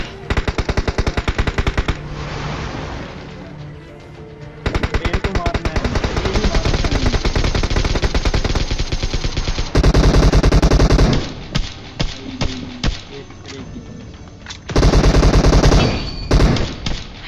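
Assault rifle gunfire in a shooting video game, long loud rapid-fire bursts separated by brief pauses, with heavier blasts between volleys, close and dominant throughout.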